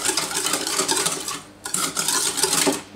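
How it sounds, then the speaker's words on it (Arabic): A hand whisk works white sugar in a bowl for chocolate chip cookie dough, making a loud, continuous close-up scraping and swishing with a brief pause midway. "من بعد السكر الابيض غادي نخلطو غير بالطراب ديال اليد"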